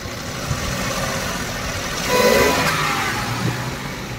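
A Suzuki Wagon R engine with a vibration fault runs steadily with a rough, uneven hum, swelling slightly louder midway before settling back, with no voices.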